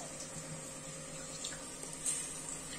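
Basmati rice being rinsed in water for a pressure-cooker chicken biryani, a steady close wash of running, sloshing water with a brief louder splash near the end, no voices.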